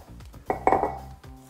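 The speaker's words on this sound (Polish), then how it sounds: "W międzyczasie wyciągamy talerz." A few quick clinks of dishes as a plate is taken out in a kitchen, ceramic and metal knocking together briefly, fairly soft and close.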